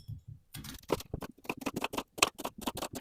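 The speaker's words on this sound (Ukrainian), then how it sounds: "І одну філетову цибулинку наріжу півкільцями." Rapid, steady knife chops on a cutting board, crisp and close, as an onion is sliced into half rings in quick succession with no talking.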